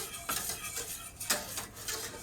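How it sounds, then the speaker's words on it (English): Chocolate eclair custard stirred in a pot over gentle heat, faint spoon scrapes and soft clinks against the pot in an uneven rhythm, quiet with no talk. "you do want to stir this continuously"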